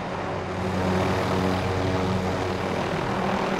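Helicopter in the video game Call of Duty Warzone, a steady loud rotor and engine drone holding throughout without gaps.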